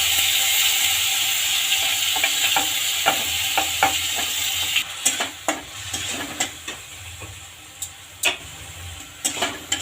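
Tomatoes frying in hot oil for a village-style mushroom curry: a steady bright sizzle with a run of sharp scraping and clicking stir strokes, close and continuous, with no talk.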